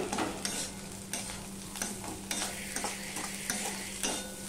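Steady sizzling of beaten eggs being scrambled in a pan, with a spatula stirring and scraping in a regular rhythm, fairly quiet and without voices.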